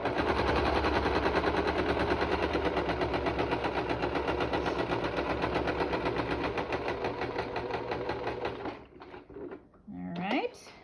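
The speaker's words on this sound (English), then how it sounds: "we're going to secure this in its spot by sewing across the middle" A sewing machine stitching across the middle of a fabric mask, a fast steady mechanical chatter running loud and close for about nine seconds before stopping, then brief handling noises.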